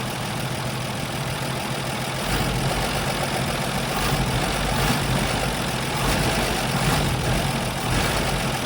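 An engine runs steadily after a fuel pump install on a Falcon, a continuous low rumbling idle with slight surges in level and no voices.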